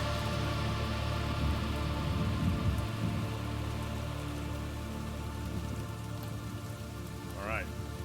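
Rain within a recorded metal music track, a dense steady hiss of falling drops under sustained tones, with a brief rising chirp near the end.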